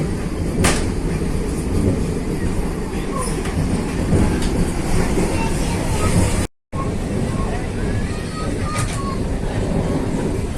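Inside the Shri Mata Vaishno Devi Vande Bharat train running from Delhi to Katra, a loud steady rumble of wheels and carriage noise fills the cabin, with faint rail clicks, background chatter and one brief dropout.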